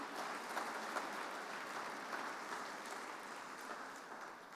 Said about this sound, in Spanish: Dele fuerte ese aplauso a Jesucristo.